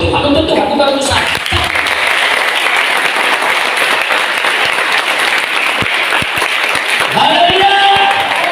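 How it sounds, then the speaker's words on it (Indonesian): A church congregation breaks into sustained, loud applause, with dense clapping filling the room while a preacher's amplified voice speaks over it. "Tepuk tangan yang mau untuk Tuhan, bukan untuk saya."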